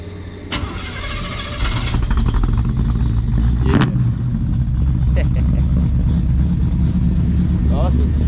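A classic car wearing a 1955 tag runs close by: a deep engine rumble holds throughout, with a sharp burst near the start and a few brief clicks and rattles over the steady drone.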